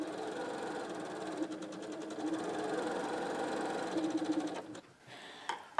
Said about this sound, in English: Next, we sew a 1/4 inch away from the line